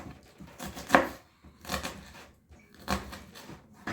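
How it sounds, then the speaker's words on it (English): Knife chopping onion finely on a cutting board, with three separate clusters of crisp, close knocks spaced about a second apart and soft rustling between them. "You're going to slice it down this way. So we're just going to do finely chopped pieces"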